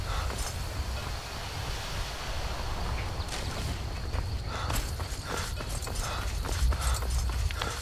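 A horse gallops in the video game Skyrim, its hooves making steady, rhythmic clip-clop beats under a low, continuous game ambience.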